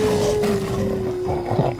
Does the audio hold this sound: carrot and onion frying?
no